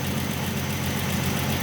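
A 1967 Ford Mustang inline six-cylinder engine idles close by, a steady low rumbling drone with an even pulsing beat and no voices.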